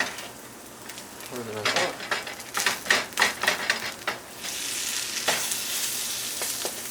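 A vegan mushroom burger patty is flipped and sizzles loudly in a hot pan, with bursts of crackling frying and clattering scrapes from a spatula. A person speaks briefly during it.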